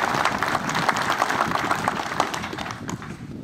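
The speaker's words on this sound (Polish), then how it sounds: "I myślę, że te brawa będą wyrazem tego podziękowania." Audience applause at the closing ceremony of a police prevention units tournament, steady, dense clapping from a crowd that carries on evenly for a few seconds.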